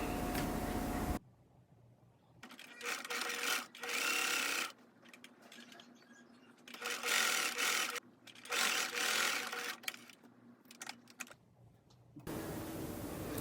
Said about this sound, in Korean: 옆선 봉제가 끝나면 주머니를 겉면에서 먼저 봉제를 합니다